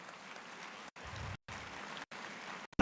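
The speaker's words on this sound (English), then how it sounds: "Can we all have a huge round of applause to welcome our chief guest" Audience applause welcoming the chief guest at a campus dialogue event in Coimbatore, a steady wash of clapping from a crowd broken by several brief cutouts.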